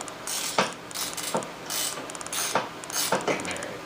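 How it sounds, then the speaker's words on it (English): A ratchet wrench works on a 2003 Ski-doo MXZ snowmobile, giving repeated short runs of clicking strokes in a steady back-and-forth rhythm, close and clear. "we'll try to turn our wrench the right way"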